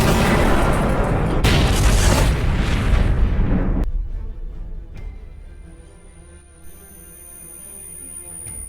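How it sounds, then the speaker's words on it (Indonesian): A grenade explosion in the crime film The Town bursts with a loud, sustained boom, then breaks off abruptly into a fading, ringing aftermath. "Lalu FBI melemparkan sebuah granat ke tempat Doe dan komplotannya."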